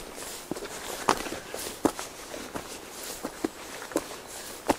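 Footsteps on a steep hillside path on the Isle of Man: soft, irregular steps crunch at close range, spaced roughly every half second, with no talking.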